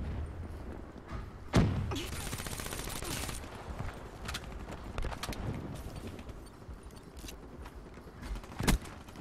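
Rapid automatic gunfire in Black Ops 3 Zombies on Der Eisendrache, bursts of quick clattering shots with a few sharp louder reports, mixed with game clanks and impacts, fairly faint overall.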